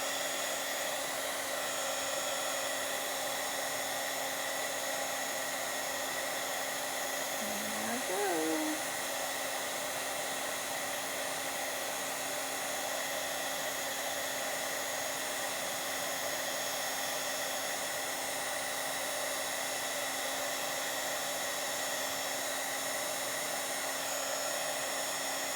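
Heat embossing tool blowing hot air to dry ink on a Bible journal page, a steady airy roar running without a break the whole time, with a faint brief tonal blip partway through.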